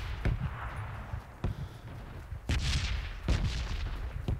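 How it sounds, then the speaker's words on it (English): Distant gunfire outdoors, several sharp shots spaced irregularly over steady wind and ambient noise. "I heard gunfire that way."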